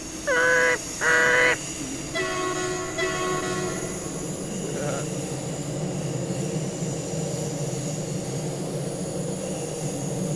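Two loud, close horn blasts from a simulated ICE high-speed train in Train Sim World 2, followed by a shorter, quieter third honk, over a steady rumble of rolling wheels and cab noise, with no talking.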